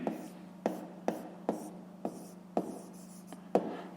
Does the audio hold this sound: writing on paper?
yes